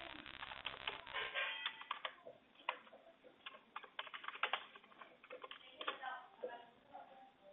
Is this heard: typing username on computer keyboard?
yes